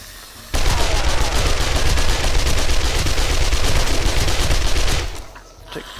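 Sustained automatic gunfire aimed at a soldier in the video game 7 Days to Die, a loud rapid burst lasting several seconds and then cutting off, followed by a quieter tail.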